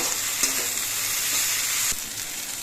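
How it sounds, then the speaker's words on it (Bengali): Food frying in a pan and being stirred, a steady loud sizzle with a few scraping touches of the spoon and a slight drop in intensity near the end, no voices. "বেশ কিছুক্ষণ ধরে রান্না করার সময় মাঝে মাঝে কিন্তু নেড়ে দিতে হবে যাতে নিচে লেগে না যায়"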